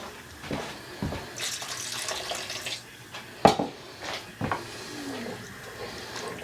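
Water splashes and runs into a gumbo pot of sausage, chicken and shrimp, coming in a few irregular pours with clinks against the pot, close and moderately loud.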